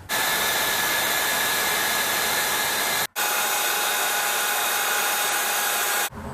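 A power tool whirs steadily while spinning out the brake caliper pins on a Dodge Ram 2500, running in two continuous bursts with a brief pause between them, loud and close, with no talking.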